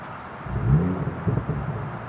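A stock Toyota Supra A91-MT in C U Later Gray, fitted with an exhaust, cranks and catches with a brief low surge, then settles into a deep, uneven idle burble close by.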